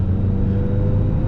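Ferrari F355 Berlinetta's 3.5-liter naturally aspirated V8 with manual 6-speed, a steady close low engine drone heard from inside during a test drive.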